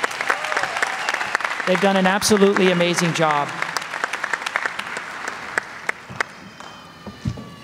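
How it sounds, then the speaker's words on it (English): Audience applause at a graduation ceremony for the class of 2020, a strong round of crowd clapping that swells and then thins to scattered claps, with a speaker talking over it at first. "Give them a round of applause."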